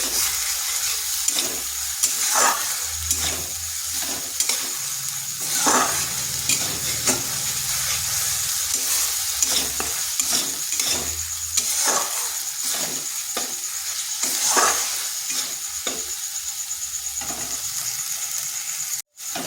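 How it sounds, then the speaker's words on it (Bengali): Spice paste for a jackfruit seed curry fries in a pan under a steady sizzle, broken by repeated scrapes and knocks of a spoon stirring it. The stirring is close and irregular, and no one speaks. "এখন মশলাটা একটু কষে নিচ্ছি।"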